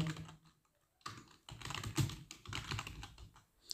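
Typing on a phone's on-screen keyboard while entering a channel name, a quick run of light close taps in bursts with short pauses, with no voices.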